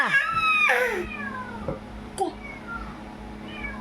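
A cat gives a few clear, close meows, one long and rising at the start, then shorter cries, with quiet household background and soft human sounds between.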